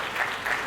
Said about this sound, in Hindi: एक बार अपने लिए गौरव की तालियां मैं चाहता हूं पीछे तक उठें